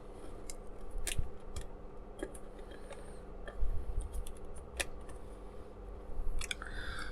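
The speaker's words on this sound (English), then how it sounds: "So I'm going to get a little tiny bit of masking tape," Masking tape is snipped and handled while assembling a small Disney doll's house. Quiet, close scissor snips and light tape crinkles come at irregular intervals with no talk.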